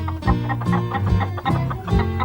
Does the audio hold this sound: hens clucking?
yes